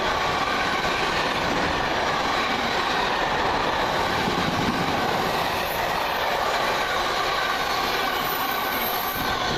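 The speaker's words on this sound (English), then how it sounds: "1553 London Midland service from London Euston to Milton Keynes Central." A London Midland passenger train on the London Euston to Milton Keynes Central service rushes past Cheddington, a steady loud roar of wheels on rail with faint squeals, close and unbroken throughout.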